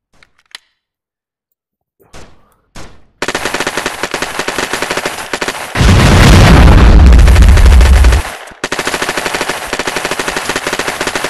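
Grenades going off in the video game XR Ultra Physics Sandbox 2: a few sharp isolated bangs, then dense rapid gunfire, then a long heavy booming blast, then more rapid fire, all loud and close.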